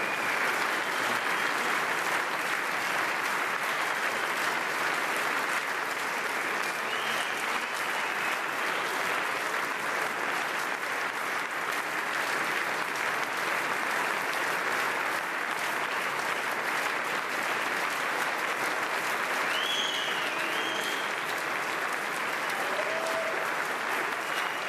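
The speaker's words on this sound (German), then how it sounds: "wie lang der längste Applaus für einen Parteivorsitzenden der CSU gewesen ist" Long, steady applause for Markus Söder at the CSU party congress, a dense hall-filling ovation of continuous clapping holding at an even level for the full stretch, with rhythmic clapping and occasional cheers.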